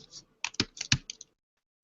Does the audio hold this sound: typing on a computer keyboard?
yes